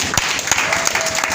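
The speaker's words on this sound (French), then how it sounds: "Est-ce qu'on peut applaudir?" A church congregation applauds, a steady wash of clapping with a few sharper claps standing out across the short burst.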